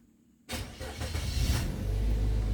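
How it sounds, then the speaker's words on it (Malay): A car engine cranks and catches after a quiet moment, then settles into a steady low idle close by, with no talking over it. "Saya hidupkan engine ya"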